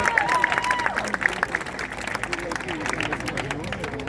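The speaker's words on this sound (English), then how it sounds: "So let's give him a big round of applause as a thank you." Audience applause breaks out at a parrot show at Lion Safari in Canada, a dense, steady wash of clapping with crowd murmur and a few bright bird-like whistles over it early on.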